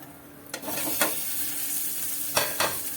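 Potatoes frying in oil in a home kitchen give a steady, close hiss, broken by a few sharp scraping stirs near the start and toward the end.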